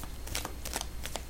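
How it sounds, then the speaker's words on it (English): Tarot cards shuffled by hand in several quick riffling bursts, close and moderately quiet, with no talking. "we'll get the cards shuffled out for you for this month"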